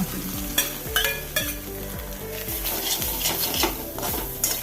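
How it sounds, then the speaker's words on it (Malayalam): Freshly grated coconut sizzling in hot oil in a pan for pavakka (bitter gourd) curry, with a steady fry hiss and repeated rhythmic scrapes of a spoon stirring, close, no talk. "ഒരു മുറി തേങ്ങ ചിരവിയതാണ്. നമുക്ക് എണ്ണയിലിട്ട് കൊടുക്കാം."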